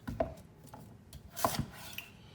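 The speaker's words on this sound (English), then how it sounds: "I want you to make about inch or so thick cuts" A knife cuts a duck into thick pieces on a board, giving a few separate sharp chopping thuds spaced irregularly, the loudest in the middle, close and clear with no talking.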